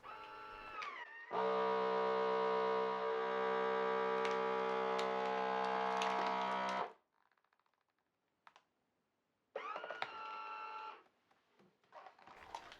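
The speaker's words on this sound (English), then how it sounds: "place them into your vacuum sealer and let it do its work" Vacuum sealer working on a bag of frozen tea ice cubes: a loud, steady motor drone runs for several seconds and stops abruptly, followed by quieter clicks and a second shorter burst of pumping.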